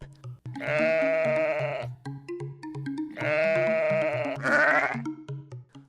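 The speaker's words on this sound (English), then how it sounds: "sheep." A sheep bleats loudly and close twice, each long wavering cry separated by a short gap, over light, bouncy background music.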